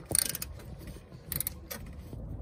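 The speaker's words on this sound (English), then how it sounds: "get the ratchet on it" A ratchet works a 15 mm bolt on the rear strut of a Land Rover Discovery 4 with air suspension: a few short metallic clicking bursts, close and moderately loud, in a quiet workshop with no talking.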